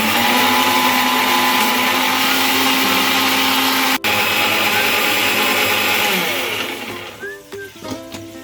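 A kitchen blender grinds ingredients with water into a fine, thin paste, its motor whining loud and steady at close range before winding down and sputtering to a stop near the end.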